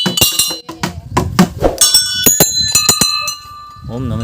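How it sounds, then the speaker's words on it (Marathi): Temple bells at a Khandoba temple ring in a series of sharp metallic strikes, some overlapping and leaving sustained ringing tones, close and loud, with voices chanting and talking throughout. "बघू शकता तुम्ही घंट्या"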